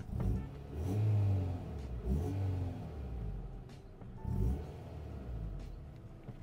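A 1999 Honda Civic SiR engine with a quiet muffler gives a few short, muffled revs that swell and fade, fairly quiet and subdued, with a low rumble between bursts.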